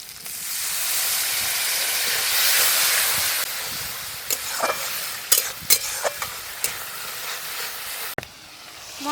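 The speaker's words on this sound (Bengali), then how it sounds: "লঙ্কা গুঁড়ো, লবণ, অল্প একটু জল দিয়ে মশলা খুব ভালো করে কষে নেব।" Masala with chili powder, salt and a splash of water fries in hot oil, a strong, close sizzle that gradually eases while sharp scraping strokes of a spoon against the pan punctuate the second half.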